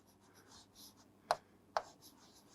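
Pen on paper while writing notes in a biology lesson: quiet scratching with two short, sharper strokes about half a second apart, in a faint, otherwise still room.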